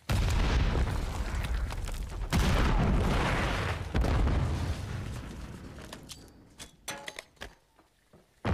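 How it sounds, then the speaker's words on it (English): A grenade explodes in Modern Warfare 3 multiplayer with a loud, deep boom and rumbling blast that fades over several seconds, followed by scattered sharp gunshots and a final pop. "Tossing grenade!"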